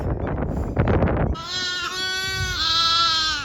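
Sheep and newborn lambs bleating close by in a lambing shed, a brief rustle of straw and movement followed by a long wavering bleat that rises and falls.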